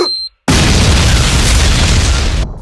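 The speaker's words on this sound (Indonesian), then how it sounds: "Dan begitu dia membungkuk, Nobutaka menekan tombol ledakan." A remote-detonated bomb goes off in one loud, close blast after a brief hush, its deep roar filling about two seconds before cutting off.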